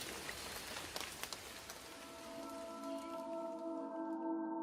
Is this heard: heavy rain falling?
yes